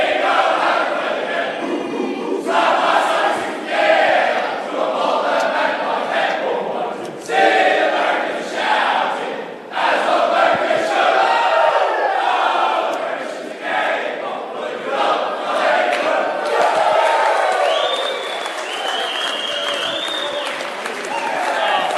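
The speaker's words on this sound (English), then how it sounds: "Collingwood winners by 4 points at the MCG, enjoying belting out their song after beating their arch rival" Collingwood AFL players gather in a circle in the MCG rooms after a four-point win over Carlton, loudly belting out their club song together, a ragged crowd of voices with cheers and shouts, continuous for the whole stretch.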